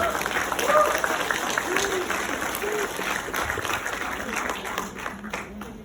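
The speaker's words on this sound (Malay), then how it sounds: "Tepukan boleh tak?" An audience applauds at a Malay-language business motivational talk, a steady wash of clapping running through the whole stretch, with a voice speaking faintly over it.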